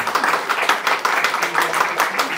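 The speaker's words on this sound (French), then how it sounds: "on peut l'applaudir" Audience applause at a book presentation honouring the artist Nam Sơn, steady dense clapping from a crowd with rhythmic swells throughout, fairly loud and close with no speech over it.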